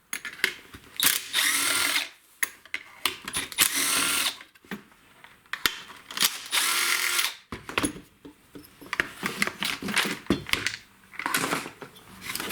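Bursts of a power driver or drill backing screws out of the recoil starter on a STIHL FS56 string trimmer, several loud whirring runs of a few seconds each separated by short pauses and small handling clicks, close up with no talk.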